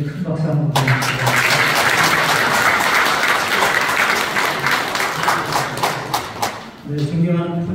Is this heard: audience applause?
yes